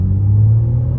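A BMW M4 rumbles low and steady as it rolls over road bumps, a deep, continuous droning hum close up inside the car.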